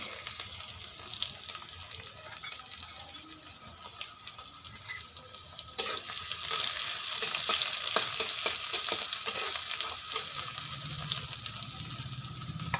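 Black cumin seeds, chopped garlic and onion fry in hot oil, giving a continuous sizzle that jumps louder partway through as more goes into the pan, with scattered crackles and stirring scrapes.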